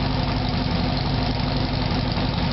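A 1977 Kawasaki KZ1000 motorcycle engine idles steadily and close, with an even, low, throbbing rumble and no talk.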